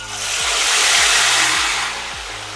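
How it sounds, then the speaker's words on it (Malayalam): Chicken pieces fry in hot chili oil for Indonesian ayam penyet, a loud, close, broad hiss that swells and then eases slightly, steady with no voices. "പിന്നെ പതുക്കെ ആ ചിക്കൻ പീസ് അങ്ങോട്ട് ഇട്ട് കൊടുക്കാം കേട്ടോ"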